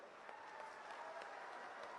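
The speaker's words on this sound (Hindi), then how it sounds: "बजी ना ताली?" A crowd at a Congress party public meeting in Ratlam, Madhya Pradesh claps, giving faint, steady distant applause that lasts throughout with no talk over it.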